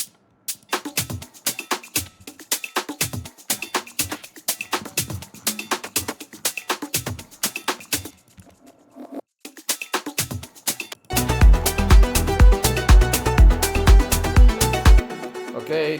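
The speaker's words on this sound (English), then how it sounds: "So that's the drums. Sounds like this." Electronic drum track with steady kick and snare hits, a brief drop near the middle, then a dense, louder section with rapid tom fills and crashes, played alone without talking.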